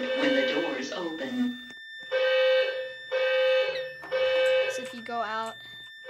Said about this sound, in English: all the fire alarms you can see are going off